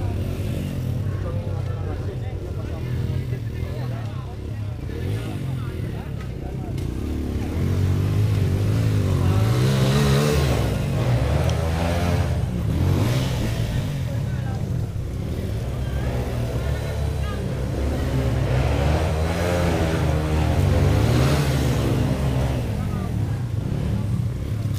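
A motorcycle engine at a trail race in San Manuel, Pangasinan, revs loud and near for about 25 seconds, its pitch repeatedly climbing and dropping, with voices faintly mixed into the din.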